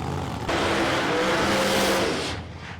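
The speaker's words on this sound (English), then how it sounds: "Both cars hiding a burnout." Two drag race cars, an orange Challenger and an orange Cuda, doing a burnout, a loud sustained roar of spinning tires and engine lasting about two seconds before fading.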